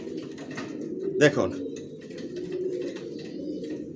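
Large long-bodied racing pigeons coo in a loft, soft repeated throaty calls close by, with one sharp louder call near the middle and a brief spoken word.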